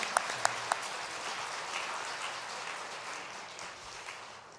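Soft, distant applause from a church congregation during a Korean Wednesday evening worship service, a few sharp claps at the start before it settles into a low, fading patter.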